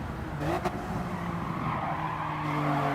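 Toyota Yaris race cars in Gran Turismo 7 drive with a steady engine drone and a brief tire squeal or skid early on, sounding continuous and fairly close, with no talk.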